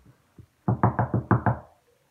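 Six quick, firm knocks on a door land in a steady burst, close and clear against a quiet room, after one faint tap.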